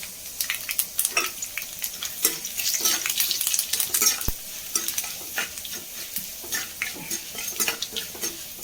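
Washed, dried lentils and dried red chillies frying in hot oil for a jackfruit upperi, a bright crackling sizzle with stirring and a sharp metal clink partway, close and moderately loud with no speech.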